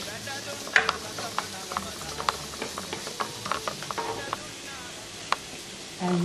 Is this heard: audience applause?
no